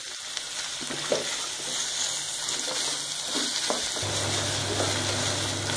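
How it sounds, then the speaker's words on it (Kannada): Onions sauté in a pan for bakery-style Iyengar bread toast, a moderate continuous sizzle with occasional spoon scrapes and taps, no voices. "ಈರುಳ್ಳಿ ಚೆನ್ನಾಗಿ ಬಾಡಿಸ್ಕೊಳ್ಳೋಣ ಒಂದು 3 ರಿಂದ 4 ನಿಮಿಷ"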